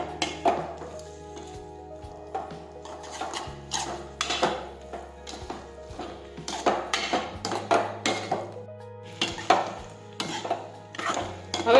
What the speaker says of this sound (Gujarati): હવે આ રીતે આપણે ફેરવતા રહીશું.